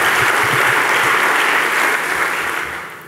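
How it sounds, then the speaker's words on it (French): An award-ceremony audience at the Grand Prix de l'Economie 2023 breaks into dense, sustained applause that fills the hall and fades slightly toward the end, with no voices over it. "on peut l'applaudir encore une fois"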